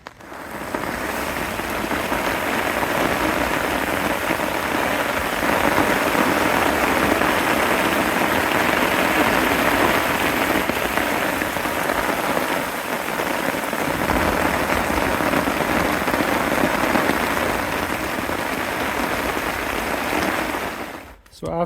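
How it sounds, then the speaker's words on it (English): Steady, heavy thunderstorm rain pours down on a surface by a river as wind picks up, a dense continuous patter with a faint low rumble beneath. "you can hear the wind kicking up, and there's the rain"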